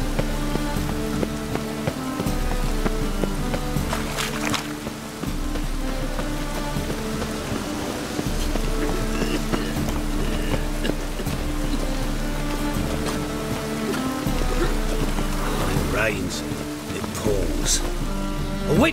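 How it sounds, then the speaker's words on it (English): Rain falling in The Witcher 3, a steady wash of droplets under a constant bed of game music, with some voices speaking over it. "I like rain. Keeps the rogues indoors."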